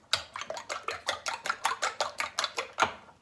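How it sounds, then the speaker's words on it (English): A whisk beats eggs in a bowl for Guyanese hot cross bun dough, making about a dozen quick, evenly spaced clinks and sloshes close by, with no talk. "I'm gonna give it a good whisk"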